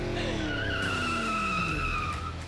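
An electric bike pulls away on pedal-assist level 4, its motor giving a steady, close, high whine that holds for a couple of seconds with no talk.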